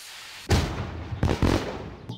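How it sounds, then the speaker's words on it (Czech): Flare fireworks launched in the driving game My Summer Car go off as a loud whoosh and burst, then a second pair of sharp bursts follows, with crackling fizz and no voices. "toto je ohňostroj"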